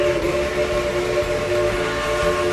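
A steam-style train at Dollywood sounds a long, steady whistle with sustained tonal lines over the low rumble of the train, loud and continuous throughout.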